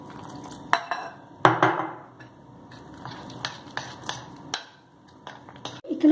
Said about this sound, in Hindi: तो थोड़ा थोड़ा डाल के हम इसे मिक्स करते जाएंगे।